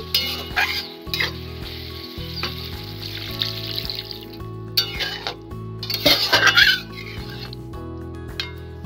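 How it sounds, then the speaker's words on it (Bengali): A fish curry simmers in a pan, bubbling and sizzling under a steady low hum, with clinks and stirring bursts of spatter rising midway and no speech. "মাছের ঝোল ফুটছে"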